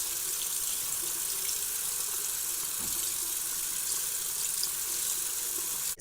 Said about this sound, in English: I'm supposed to use cool water to rinse off the stabilizer as opposed to the warm water I was using before.